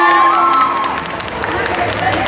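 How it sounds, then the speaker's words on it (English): A convention crowd at Paris Manga cheers and applauds for actor Robin Lord Taylor, loud dense clapping and shouts beneath sustained tones from music, voices calling out within the din. "Allez, vous l'applaudissez mieux que ça."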